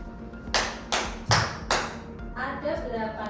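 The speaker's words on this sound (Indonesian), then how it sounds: "Karena ini ada nyamuk, kemudian saya tepuk." Four sharp hand claps in a slow, even rhythm, each one a loud broadband smack, made as if swatting mosquitoes during a classroom clue game; a quieter murmur of room noise follows.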